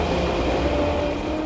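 A bullet train in a cartoon rumbles steadily past at close range, a dense continuous mechanical roar with a faint tonal whine, lasting just over a second.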